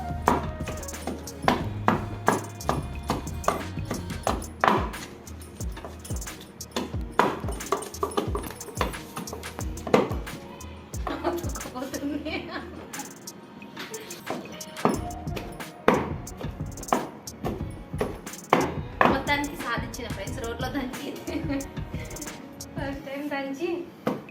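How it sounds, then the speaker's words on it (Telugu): Chicken and turmeric are pounded in a stone mortar for chicken pakoda, giving a steady run of dull, heavy thuds close up while a person keeps talking over the pounding. "కొంచెం అంటే కొంచెమే పసుపు వేస్తున్నాను వేసుకొని దంచేసుకుంటాం"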